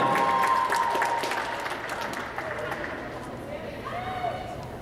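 Applause and crowd noise for a dance team at a school gathering, a dense wash of clapping and cheering that fades slightly over a few seconds.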